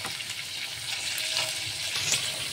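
Onion frying in oil in a pan while a koi fish curry is cooked, a steady close hiss and crackle of sizzling with faint stirring scrapes, no voices.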